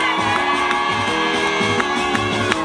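Party crowd at a night-time dance party cheering, whooping and shouting together over loud, thumping rhythmic music, a dense, continuous roar close by.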